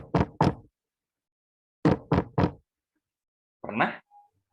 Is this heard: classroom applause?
no